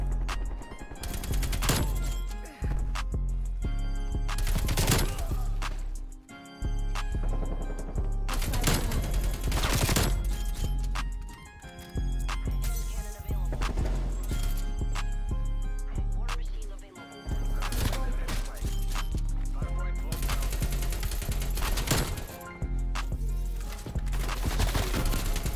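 AK-47 gunfire in the video game Call of Duty: Cold War, loud repeated automatic bursts with brief pauses between them, sustained over a dense game soundtrack.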